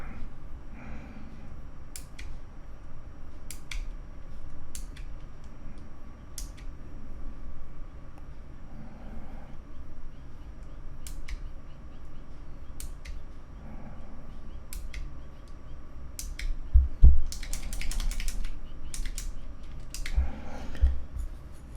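An experimental optical mechanical keyboard switch with its keycap removed gives sparse, crisp clicks spread out over quiet near silence, with a quick cluster of sharper taps toward the end.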